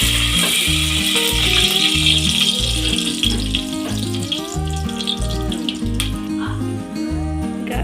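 Cinnamon, cloves and cardamom sizzle in hot oil at the start of a Hyderabadi mutton biryani, a steady bright hiss that runs throughout under looping background music.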